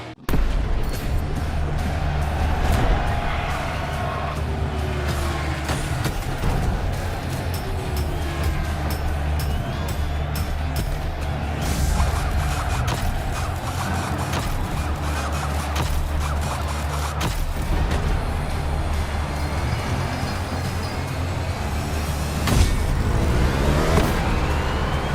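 Race cars idle and rev through a pit stop in the racing game The Crew Motorfest, a dense continuous engine roar with mechanical clatter and occasional louder surges, no voices.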